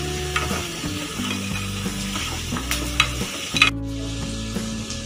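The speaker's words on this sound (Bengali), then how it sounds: "মাছের ডিমের কোপ্তাগুলো আমার ভাজা হয়ে গেছে" Fish roe koftas fry in hot oil with a steady, close sizzle and occasional stirring clinks from a utensil, the crackle continuing evenly throughout with no one talking.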